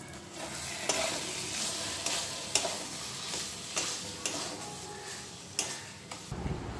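Prawns frying with spice masala in a pan, a steady broadband sizzle throughout with occasional sharper stirring clicks and scrapes of a utensil, moderately loud and close.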